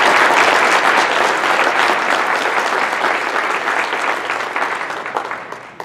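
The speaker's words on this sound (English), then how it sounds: "Can we all clap? You can all clap." A gathering at a celebration of life breaks into loud, sustained clapping that fades gradually toward the end.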